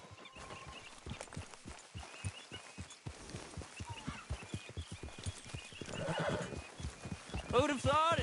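Horse hooves clip-clop steadily in a game setting from Red Dead Redemption II, building to loud neighs and whinnies near the end, with a character speaking over the hoofbeats.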